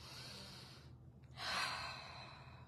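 A single deep in-breath, quiet and close, rising sharply about halfway through after a brief hush and then easing off, heard alone with no talking.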